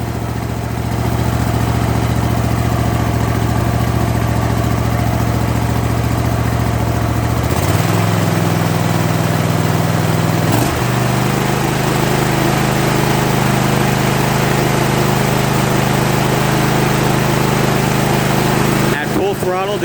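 A Kohler 7000 series engine on a zero-turn lawn mower runs close and loud with a steady, smooth drone, stepping up in pitch twice as the throttle opens.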